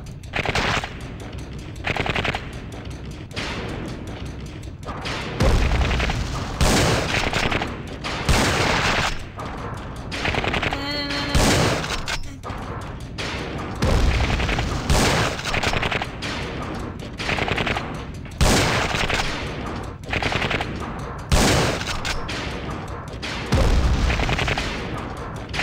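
Rapid automatic gunfire and scattered single shots in the video game Schuld, loud bursts repeating in clusters across the stretch with brief pauses between volleys, with no talking over it.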